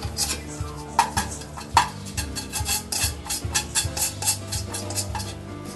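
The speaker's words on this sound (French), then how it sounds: "dans un cul de poule, vous allez mélanger le sucre" Sugar being mixed in a bowl, a steady scraping and stirring of utensil against the bowl with a few sharper clinks, close and continuous throughout.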